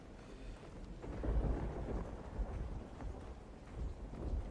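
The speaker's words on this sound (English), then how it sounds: "In light of the gathering storm, Logfella admitted he had a serious case of the heebie-jeebies right about now" Steady rain and rolling thunder from a gathering storm in the video game Sword & Sworcery, with low rumbles swelling and subsiding under continuous wet hiss for several seconds.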